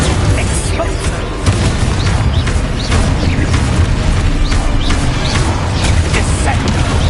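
A blast from an explosion spell in the Hogwarts Legacy game: a loud, dense boom with rumbling debris and crackle, running continuously under a voice calling out spells.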